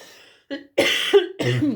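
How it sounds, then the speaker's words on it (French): A series of close, harsh coughs in quick succession, with brief pauses between bursts. "je tousse en même temps"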